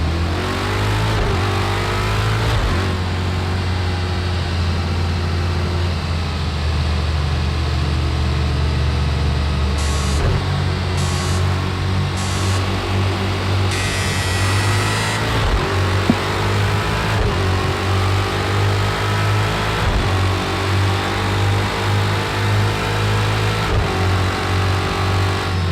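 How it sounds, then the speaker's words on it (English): Ginetta LMP3 race car engine on a road course in a racing video game, a loud continuous drone rising and falling through gear changes, with sharp upshift cuts and steady acceleration throughout. "We are driving the Ginetta LMP3."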